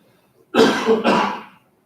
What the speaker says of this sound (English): my cough's coming